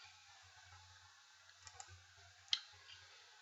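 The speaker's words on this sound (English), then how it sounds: "We're going to click next." A computer mouse click on a predictive dialer agent script screen, one small sharp click with a couple of fainter clicks before it, over a quiet hum.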